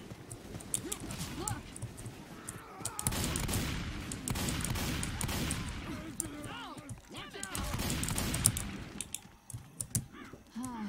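Rapid gunfire in the video game Left 4 Dead 2, with dense bursts of clicky shots under ongoing talk.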